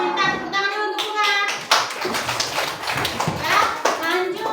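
Children in a third-grade classroom clap together during a lesson. Quick rhythmic claps run under a teacher's voice that carries throughout.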